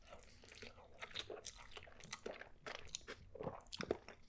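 Someone chews a beef bacon breakfast with cheese sauce up close, making steady wet crunching and munching sounds in an irregular rhythm with no talking.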